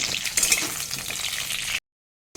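Bitter gourd sizzles and crackles in a hot pan over low-medium heat, a dense hissing fry with a few stirring clicks, then it cuts to silence.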